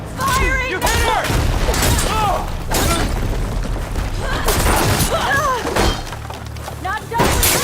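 Rapid bursts of gunfire and heavy impacts in the video game Horizon Forbidden West, loud and continuous across the whole stretch, mixed with game voices and dense combat noise.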